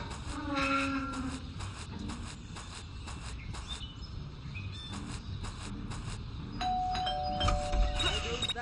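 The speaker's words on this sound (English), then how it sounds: "That stupid bell again." A doorbell in Scary Teacher 3D chimes in repeated ringing tones over game background noise, first as a cluster of dings and later as a longer held chime.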